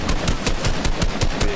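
Rapid bursts of automatic gunfire from a Fortnite match, a loud, steady rattle of evenly spaced shots running throughout with no talk.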